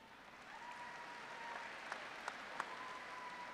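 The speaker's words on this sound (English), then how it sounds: "I want you to give them a round of applause" Faint, distant applause from an audience at a high school graduation, a soft steady patter with a few sharper claps standing out.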